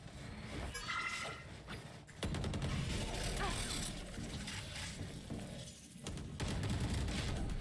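Rapid gunfire bursts in the Valorant video game, dense crackling shots and mechanical clatter layered over a loud, busy game soundscape with a faint voice underneath.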